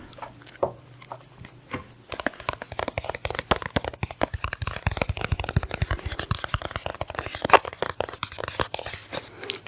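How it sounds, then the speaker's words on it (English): Healing Light Lenormand cards shuffled by hand, a dense run of quick crisp riffling taps and card slaps that starts after a quiet pause and keeps going steadily and close, with no voice over it. "I'm going to shuffle and draw some Lenormand cards"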